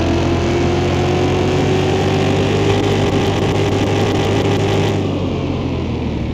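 A V8 engine in a restored seventh-generation NASCAR stock car, heard in the Car Mechanic Simulator game: a loud, steady, close drone holding one pitch with a slight rise, then easing off near the end.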